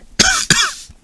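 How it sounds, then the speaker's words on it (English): Two harsh, close coughs in quick succession, the second trailing off slightly longer, from a lone man with no other talk around them. "Excuse me while I cough again, I apologise."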